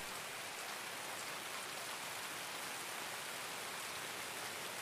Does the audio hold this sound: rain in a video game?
yes